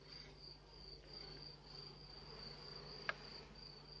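Honey bees buzz in an open hive during an inspection at the end of the black locust bloom, a steady low drone with a high whine, and one sharp click near the end.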